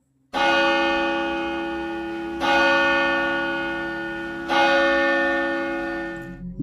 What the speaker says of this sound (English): I hear loud bells echoing throughout the church upstairs